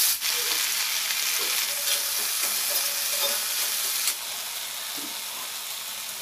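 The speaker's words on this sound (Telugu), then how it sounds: "దానిలోనే పొటాటో ఫ్రై కూడా చేసేస్తున్నాను" Potatoes frying in a pan first used for roasting peanuts: a loud continuous sizzle with occasional soft stirring knocks, easing slightly toward the end.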